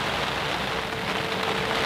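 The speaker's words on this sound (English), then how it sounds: "It's starting to bloody rain, bloody hell." Rain pours steadily at a fishing lake, a dense, even hiss of drops striking surfaces close to the microphone, constant throughout with no talking.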